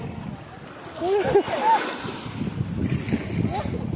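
Sea waves wash around a small boat carrying tourists off Dingalan, Aurora, a steady rushing wash with wind buffeting the microphone, while voices call out over it throughout.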